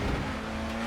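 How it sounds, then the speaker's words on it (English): Renault touring race car engine in Assetto Corsa, a steady loud idle-to-rev drone with a strong low hum, brief and continuous with no talk. "Oh, I stalled it. Clutch in. Engine started."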